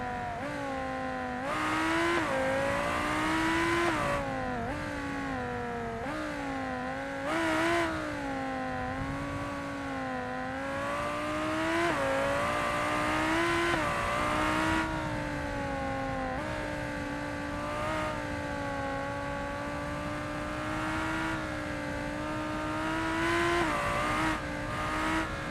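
A fast super car in the driving game BeamNG.Drive, engine note rising and falling through repeated gear shifts and revs, loud and continuous with short lifts between pulls and no talk.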